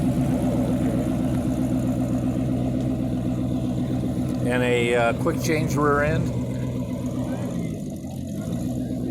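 A hot rod with a flathead engine idles with a steady, throaty exhaust rumble nearby while people talk over it.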